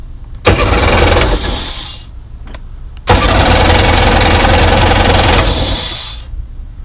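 A 1998 Sea-Doo GS jet ski engine cranks and catches twice, each start a loud close burst of running engine for a couple of seconds before cutting out, with a brief crank between them.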